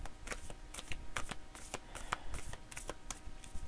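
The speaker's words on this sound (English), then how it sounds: "I feel like pulling a card from this deck" A deck of fairy oracle cards is handled and shuffled: a quick, rapid series of soft papery flicks and riffles, close up and quiet, with no talking.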